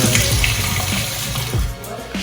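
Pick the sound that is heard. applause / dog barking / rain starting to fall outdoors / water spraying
water spraying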